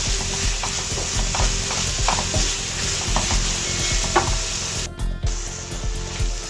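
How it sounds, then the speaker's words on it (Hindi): Spices, tomato and yogurt stirred and fried in a pan for aloo qeema, a steady close sizzle with repeated scraping stirs throughout and a brief pause near the end, no talking. "काली मिर्च, हल्दी, ज़ीरा, नमक, धनिया और गरम मसाला सब मैंने डाल दिया है, ठीक है। अब इसको मैं थोड़ा भूनूंगी।"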